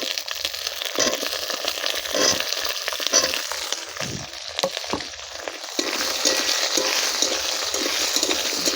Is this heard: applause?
no